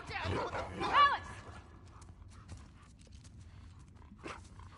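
A dog barks in The Last of Us Part II, with a few sharp, fairly loud barks near the start, a fainter yelp toward the end, and voices talking around them.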